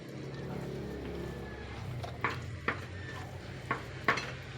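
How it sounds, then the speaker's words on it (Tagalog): Sticky rice cake (biko) being stirred in a pan, with a low sizzle under repeated soft scraping knocks of the spoon against the pan every half second or so, close and moderately loud. "umpisa ng paghalo ng biko"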